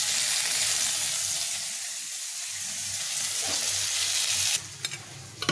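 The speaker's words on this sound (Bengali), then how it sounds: "এভাবে একটু সজনাগুলোকে ভেজে নেব" Drumsticks frying in a pan, a loud dense sizzle that holds steady, then drops after a few seconds to quieter frying broken by a handful of sharp stirring knocks.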